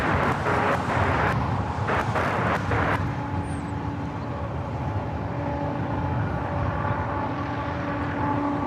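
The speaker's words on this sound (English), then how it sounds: "up next is that Air Tahiti Nui Dreamliner coming in from Paris" An Air Tahiti Nui Boeing 787 Dreamliner arrives at LAX, a distant jet roar holding steady with a faint whine, mixed with outdoor wind and a few brief clicks early on.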